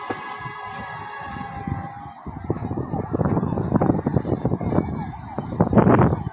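A fire truck siren wails, rising and falling in the distance at a fire in Catmon, Malabon, then grows louder and more broken up amid traffic rumble and wind on a narrow street.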